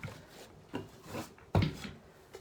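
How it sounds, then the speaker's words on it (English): A few short, dry rasps of a 220-grit sanding block rubbing wooden tray edges, uneven strokes close by with a stronger scrape near the end. "take your sanding block, and this is a 220 sanding block"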